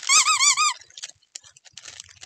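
A plush dog toy squeaks in a rapid burst of about four warbling squeaks, loud and close, then gives way to faint crinkles and handling noises.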